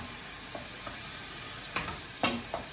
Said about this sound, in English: I've got another pan over here getting ready to be hot, so I'm gonna cook the vegetables